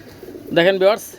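Pigeons at a Bangladeshi pigeon seller's, sold as tournament fliers: a close, clear coo in two rising pulses over faint background murmur.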